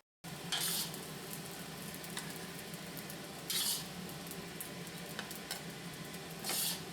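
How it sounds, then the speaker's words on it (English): Fried rice seasoned with soy sauce being stirred in a pan, a steady close sizzle with occasional scrapes and three louder bursts of stirring, no talk. "Add soy sauce and stir."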